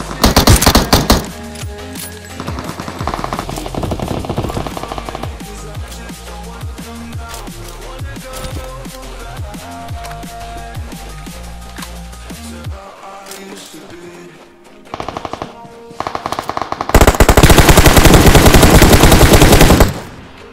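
Automatic gunfire rattles in bursts during a four-player squad match of a shooter video game, loud and continuous with brief gaps, ending in a dense, intense stretch of rapid fire.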